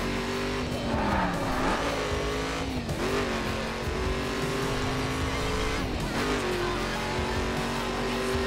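Car racing in The Crew video game, a steady engine drone with pitch shifts as it accelerates, plus tire squeal and skidding at a few points, loud and continuous.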